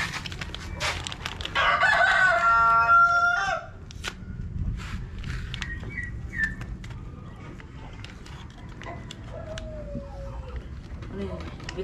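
A rooster crows loudly on a Philippine farm near the start, followed by scattered clucks and bird calls over rustling background noise and faint voices.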